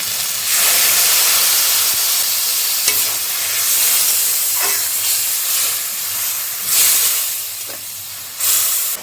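Water from ground spice paste poured into a hot pan for a tangra fish and green tomato curry, a loud close hiss and sizzle that swells in bursts, with stirring scrapes and no voices.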